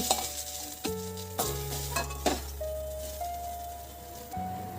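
Pointed gourd sizzles steadily in a hot pan while a utensil stirs, clinking against the metal a few times.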